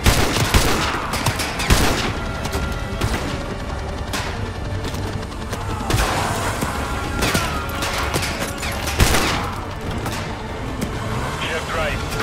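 Gunfire in the Call of Duty: Modern Warfare 2 video game, a series of sharp, loud shots and cracks scattered over a dense battlefield din, with radio-style voices talking throughout.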